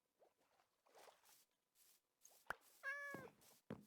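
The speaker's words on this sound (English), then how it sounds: "Where are you, cat? I hear you." A Minecraft cat gives a clear, wavering meow near the end of the clip, set among quiet clicks and faint background game sounds.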